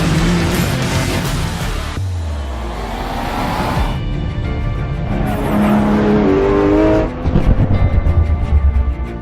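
A Porsche 911 GT2 RS's 3.8-liter twin-turbo engine revs hard and accelerates, climbing through the PDK gears with loud, punchy roars and sharp shifts, close and without talk.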